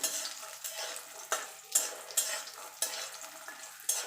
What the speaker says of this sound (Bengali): আমার বড়িগুলো লাল লাল করে ভাজা হয়ে গেছে এবার আমি তুলে নেবো